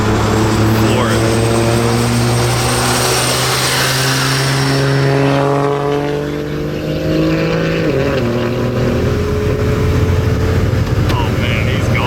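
A Jeep Cherokee with a 5.9 Common Rail diesel and a large S400 turbo at full throttle: loud engine drone with rising harmonics and turbo whistle as it pulls away, then a gear change and renewed surge, all close and heavy.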